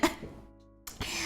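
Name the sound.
coughing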